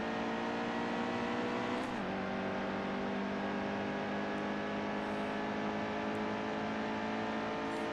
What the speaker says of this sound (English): Back on the gas for the straightaway.